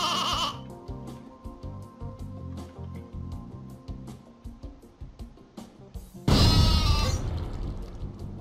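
The exploding sheep weapon in Worms Ultimate Mayhem bleating repeatedly as it runs, with pattering steps under the calls, then a sudden loud explosion boom near the end that rumbles away.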